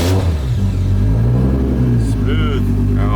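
A Nissan S14 fitted with a 1JZ engine and GTX3076R turbo cranks over and settles into a steady, loud idle rumble close by, with people talking over the engine.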